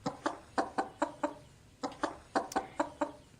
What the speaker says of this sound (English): That chicken sounds like it's in ecstasy.